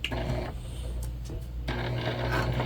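A sewing machine stitches a large fabric tote bag with a steady mechanical whir and rhythmic needle clatter, running continuously with two brief slowdowns where the fabric is pivoted at the corners.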